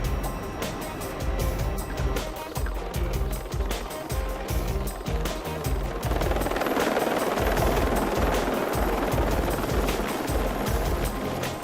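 Rescue helicopter in flight over the New Zealand mountains, a loud steady rotor thump and engine drone that fills the whole stretch and grows denser partway through.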